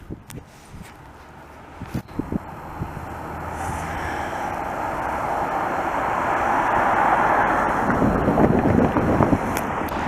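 Wind buffets a microphone outdoors on an open, cold street in Montreal's St Henri district, a rumbling gusty roar that builds louder over the clip with a few sharp bumps and no talk.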